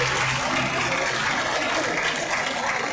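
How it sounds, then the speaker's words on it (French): A crowd applauding the eight candidates at a Miss Poitou beauty pageant in La Châtaigneraie: dense, continuous clapping from a large audience throughout, loud and sustained. "je vous demande d'applaudir très fort vos 8 candidats"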